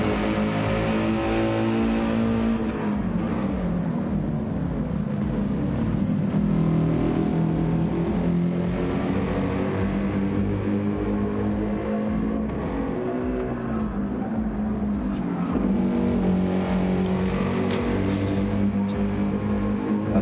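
GT3-class race cars lap during qualifying in a sim racing game. A continuous, close engine drone rises and falls in pitch through acceleration and braking, without a break.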